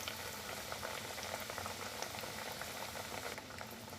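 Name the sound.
chicken nuggets deep-frying in oil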